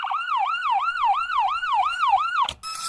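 A cartoon ambulance siren wails in a fast rising-and-falling pattern, about eight loud, close cycles, then cuts off abruptly with a sharp clatter.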